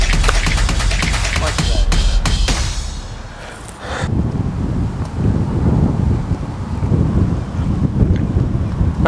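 Heavy wind buffets the microphone outdoors at a match, loud low rumbling gusts blasting throughout, with a burst of sharp clatter early on before the roar settles into steady blowing.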